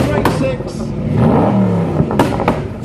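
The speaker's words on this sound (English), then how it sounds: "Listen to that car, straight 6." A Noble Speedster with a straight-six engine revs up and down as it drives past at the Goodwood Festival of Speed supercar run, its rising and falling engine note loud under a commentator's voice.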